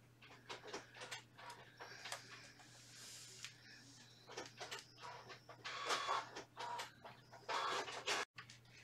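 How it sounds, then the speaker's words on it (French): A printer printing a sheet, faint and fairly near, giving bursts of mechanical clicking and whirring over a low, steady background hum. "Je vais aller imprimer."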